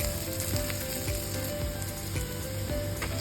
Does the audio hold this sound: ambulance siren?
no